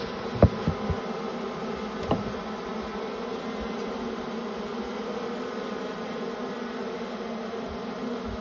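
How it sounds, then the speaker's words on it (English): Honey bees swarm over a hive frame being pulled by hand, a steady close drone filling the whole stretch, with a couple of light knocks of wood near the start. "So I slid that last frame out, and we see a lot of bees down there"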